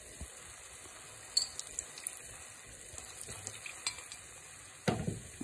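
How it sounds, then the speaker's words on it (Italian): Lamb browning in a pan sizzles softly as white wine is poured in to deglaze, a low crackling bed with scattered clicks and a louder hissing burst near the end, no talking. "Vado a sfumare con un po' di vino bianco."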